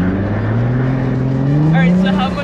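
Drift car on studded tires on a frozen lake, a steady loud engine drone with a slowly rising pitch as it accelerates, heard from close by with no talk over it.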